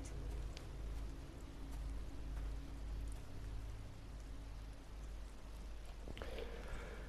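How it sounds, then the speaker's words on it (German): Rain falls in The Walking Dead video game as a steady, soft hiss of drops, with a low rumbling bed beneath and a brief sharper knock near the end. "Ach, und jetzt regnet es."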